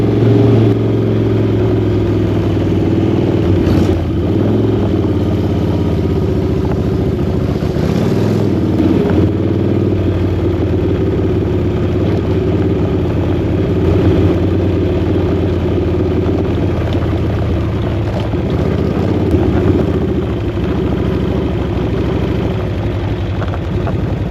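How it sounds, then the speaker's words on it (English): A Harley-Davidson motorcycle engine running roughly, with a loud, continuous low rumble and uneven surges as it revs, close by and steady throughout with no voices. "Bike was still running like absolute crap"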